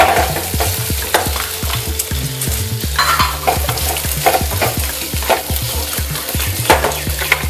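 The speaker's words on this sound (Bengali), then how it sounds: "পেঁয়াজ আধ ভাজা হয়ে গেছে। এবার আমি দিয়ে দিলাম আলু।" Potatoes dropped into a pan of half-fried onions, sizzling steadily while a spatula scrapes and stirs in a quick, repeated rhythm, close and fairly loud with no talking.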